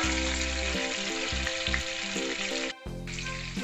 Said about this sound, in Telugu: ఇప్పుడు పన్నీరు మొత్తం ఫ్రై చేసుకున్నాము.